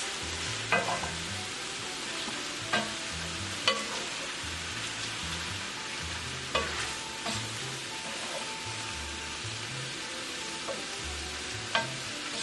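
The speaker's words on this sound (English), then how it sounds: "the last thing I want to add in there is some of this minced garlic. And it's about half a tablespoon. And give that a nice little mix." Shrimp and sausage stir fry sizzles softly in a single pan as minced garlic is mixed in, a quiet steady fry with occasional clinks of the utensil against the pan, no voices.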